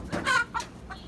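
Hens clucking in a coop, an older hen pecking at a younger one; several close, loud clucks and squawks in quick irregular bursts.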